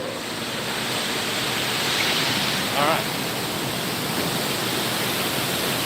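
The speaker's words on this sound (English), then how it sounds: "It's going to be loud and water running-ish." Loud, steady rushing water fills a water treatment plant as a constant roaring wash, with a voice speaking briefly over it.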